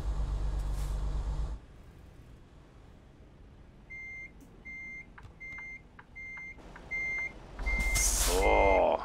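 Freightliner Cascadia 2022 truck in American Truck Simulator reversing, a steady series of evenly spaced warning beeps sounding alone between louder bursts of engine rumble and air hiss at the start and end.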